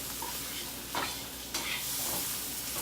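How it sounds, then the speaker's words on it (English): Chipotle shrimp mixture stirred in a pan, a steady oily sizzle broken by a few scraping strokes of a utensil, close up with no talk. "I'm going to stir this up like maybe one more time."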